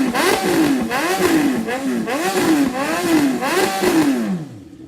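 A BMW S1000XR motorcycle's exhaust is revved from about 6,000 to 12,000 RPM in roughly six quick, loud rising-and-falling blips, recorded up close before the engine note drops away at the end.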